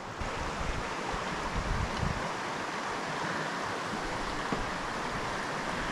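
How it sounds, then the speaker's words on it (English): A stream near Bullhead Lake makes a broad, steady rushing wash with gusty wind noise on the microphone and no voices. "over this beautiful stream."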